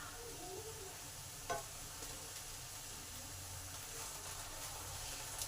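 Pointed gourd (potol) sizzles quietly in a pan with a little water, a soft continuous frying hiss with an occasional scrape of stirring, fairly distant and low.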